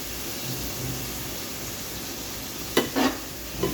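Tomatoes sizzling and frying in a pan, a steady soft hiss throughout with a couple of brief louder scrapes near the end, no talking.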